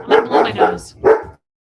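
Four quick dog barks in a row, close and loud, followed by silence.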